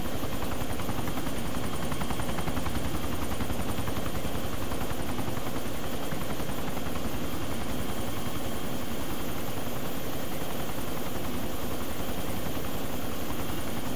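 A video-game helicopter thrums continuously with rapid rotor chop and a steady engine whine, loud and constant with no talk over it.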